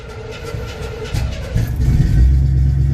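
A 1967 pickup truck engine cold-starts, cranking and catching into a rough, rising rumble that grows louder toward the end, heard close with no talk.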